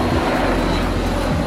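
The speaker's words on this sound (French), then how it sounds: "un hélicoptère qui passe tout juste à côté de nous" A helicopter passes close by, its engine and rotor noise a loud, dense roar that fills the whole moment without a break.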